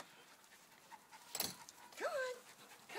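A 15-week-old Goldendoodle puppy pants faintly in quick soft breaths, with a brief whimpering whine and a voice nearby.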